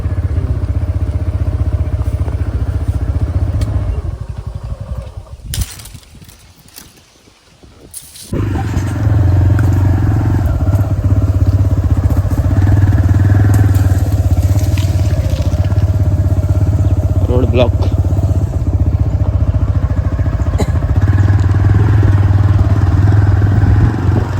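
Motorcycle riding along a road, its engine a steady low rumble with wind noise, close and continuous, with a brief quieter dip partway through before the ride noise returns.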